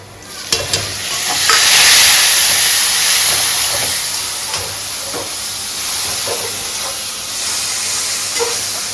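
Onions browned in a covered pan with tomatoes added, giving a steady, loud frying hiss and sizzle that swells and eases throughout, with occasional faint clinks and no talking.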